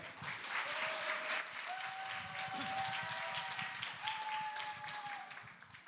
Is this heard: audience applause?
yes